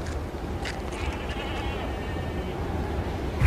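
Goats sick with Q fever bleat a few times, faint and wavering, over a steady, noisy background.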